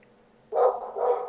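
A dog lets out a couple of loud, close barks in quick succession after a quiet start, the second bark following right on the first.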